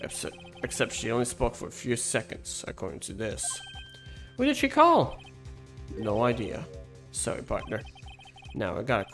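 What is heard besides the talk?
No everyday noise stands out behind the speech.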